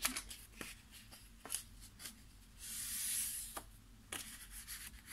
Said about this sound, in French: Vous marquez vos plis.